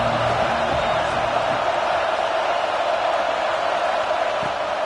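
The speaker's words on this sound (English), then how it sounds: "This crowd ready to make its presence known." A football stadium crowd roars in a steady, dense wash of noise, with scattered whoops and cheers rising now and then from the broad, continuous din.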